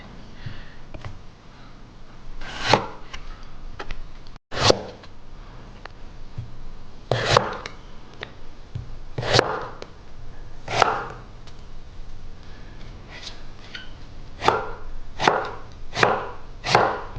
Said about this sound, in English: Now with your daikon, just go in the middle, cut that down to half, putting that flat side down, and then just running the knife